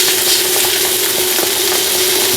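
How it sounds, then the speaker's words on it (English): Chicken breasts sear in a hot pan with a steady, close, loud sizzle and a faint underlying hum, unbroken across the clip with no talking. "So then we're gonna put our breasts in. We're gonna sear them"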